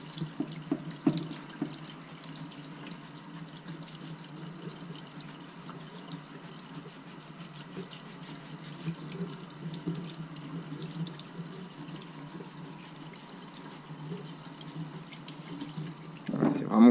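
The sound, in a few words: warm tap water rinsing a Pipercross air filter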